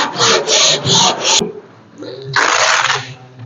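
Sandpaper on a Velcro backing rasps over car bodywork in four quick rhythmic strokes, then a pause, then one longer harsh scrubbing pass, loud and close.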